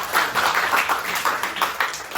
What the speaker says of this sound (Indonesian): tepuk tangan dulu untuk kelompok kalian